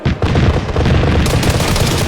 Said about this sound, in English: I began to hear nearby cannon impacts from the Cobra's guns a moment before I collapsed again